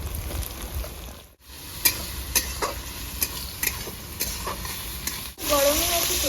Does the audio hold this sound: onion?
yes